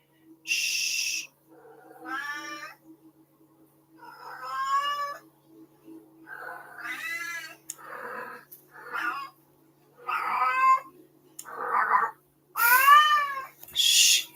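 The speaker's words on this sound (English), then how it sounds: "Oh my lord, my cat." A cat meows loudly and insistently indoors, about ten drawn-out, wavering calls with short gaps between them. Nothing else is heard except a faint low hum.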